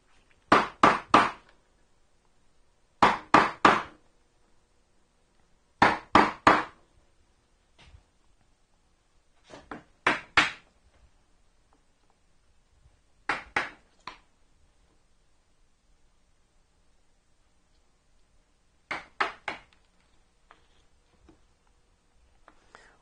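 Mallet blows on a chisel paring wood fibers for hand-cut dovetails: sharp, close wooden knocks in tight clusters of three or four, repeated every few seconds with quiet gaps between.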